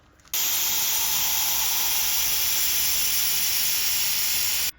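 Seam sealer sprayed onto a car chassis as a test, a loud, steady hiss that starts abruptly and holds for about four seconds before cutting off, close by with no talking.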